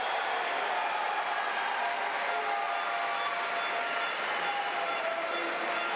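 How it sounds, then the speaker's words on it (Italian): Crowd applause at a kickboxing fight event, a steady wash of clapping and cheering from a large audience filling the hall, continuous and even, heard from a distance. "Adesso chiama l'applauso del pubblico Faraoni."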